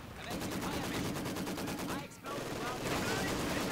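Machine gun fire in the Company of Heroes 2 battle game rattles in rapid continuous bursts with dense gunfire, loud and sustained with a brief gap midway.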